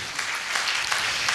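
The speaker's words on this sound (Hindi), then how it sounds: "जोरदार ताली हो जाए उनके लिए" Audience clapping for a guest at a Safe Shop motivational speech event, a dense, steady burst of many hands applauding, brief and fairly loud.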